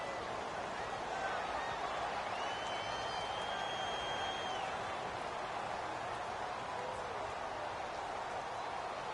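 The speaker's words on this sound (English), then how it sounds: "The crowd getting into it as we come up on a big 3rd down." Football video game stadium crowd roaring steadily through a big third-down moment at a home field, a dense wash of cheering.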